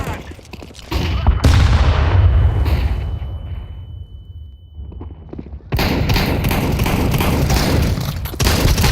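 Gunfire and heavy thuds from a counter-terrorist shooter video game, with bursts of shots, a boom, a quieter ringing lull, then dense rapid fire resuming, loud and close.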